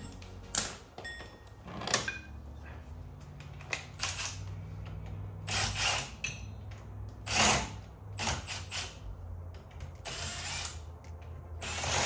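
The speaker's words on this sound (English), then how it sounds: "you're gonna torque these down" Ratcheting wrench clicks in short bursts while wheel bearing bolts on a Mitsubishi 3000GT are torqued down, close and fairly quiet, with sharp metallic ticks separated by pauses.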